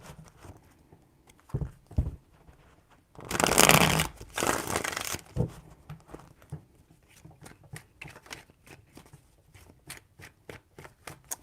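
Tarot cards being shuffled by hand, with a dense riffle burst in the middle followed by a run of quick, crisp card taps and flicks, close and alone.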